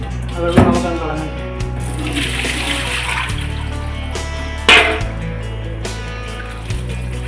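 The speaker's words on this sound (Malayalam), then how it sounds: "ആ വെള്ളം നമുക്കത് കളഞ്ഞു." Fish-washing water being poured away, a close splashing gush that rises and falls with a couple of louder surges, while a person talks over it.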